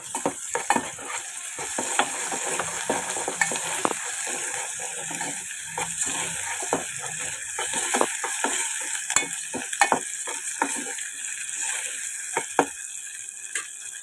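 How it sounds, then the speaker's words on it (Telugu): A spoonful of ginger-garlic paste roasts in oil for a gongura prawn curry, making a soft steady sizzle punctuated by frequent quick spoon scrapes and clicks against the pan. No talking. "ఆయిల్లో ఒక స్పూన్ అల్లం వెల్లుల్లి పేస్ట్ వేసుకున్నాం"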